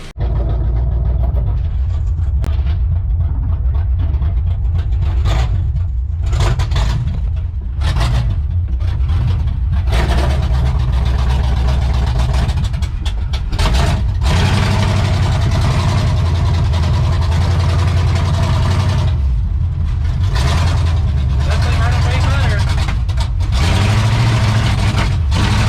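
A lowered Chevy C10 pickup truck engine runs loud and close, a steady low rumble with revving swells throughout.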